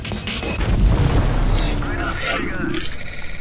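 A Dicker Max tank gun firing in a video game gives a loud, heavy boom with a deep rumbling tail and mechanical clatter, followed by fading reverberant noise.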